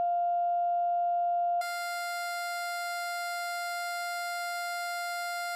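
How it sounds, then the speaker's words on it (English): A steady test tone near 699 hertz, the F two octaves above middle C, holds alone at moderate level and, partway through, turns harsh and buzzy with dense harmonics, as if passed through a classic fuzz, overdrive or octave guitar pedal. "we've got 2 Fs above middle C. It's about 699 hertz"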